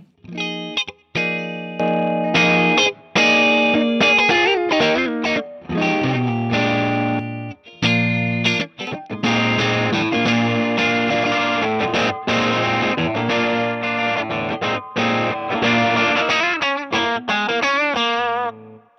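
An electric guitar plays through an AMI Effects pedal, distorted and chorused with a reverb tail, strumming chords and picked runs continuously and loudly.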